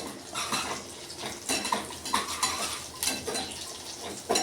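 Curry leaves fry with garlic and green chillies in a pan. A utensil clinks and scrapes against the pan in bursts over a low frying hiss, close up, with no voices.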